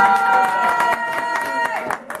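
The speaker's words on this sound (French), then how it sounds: "Voilà, qu'on applaudit" An audience claps to welcome the third-place team at a Téléthon Vendée 2014 prize ceremony. The claps are sharp and scattered over a sustained tonal background with voices, and they grow sparser toward the end.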